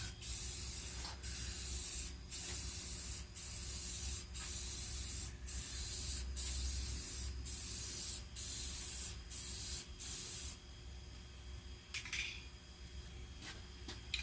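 Thick clear coat sprayed onto a 1948 Philco radio cabinet in repeated steady hissing bursts of about a second each with short pauses, loud and close, ending in quieter handling noises.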